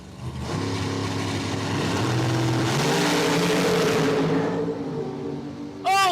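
Camaro and Firebird drag cars launch off the line at Cordova Dragway: a loud engine roar climbs in pitch through several gear changes, holds full throttle, then fades as the cars race away, and a brief rising whine closes the clip.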